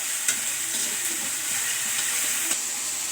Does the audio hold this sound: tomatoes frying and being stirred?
yes